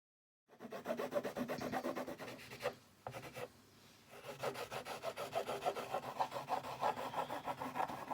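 Pencil or crayon colouring across paper for a springtime moving picture, steady scratchy rubbing strokes in close rhythm, briefly pausing midway before resuming.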